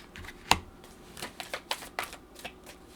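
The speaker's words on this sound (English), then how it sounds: "I'm gonna pull the cards first" Tarot cards are shuffled and drawn from the deck at close range, giving a quiet run of soft, irregular riffling clicks and flicks with one sharper snap near the start, and no voices.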